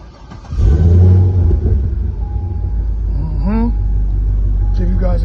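A C6 Corvette with cat-back exhaust and catless headers starts up: a starter whine, then a loud rumbling catch and deep idle close by, with a voice talking over it.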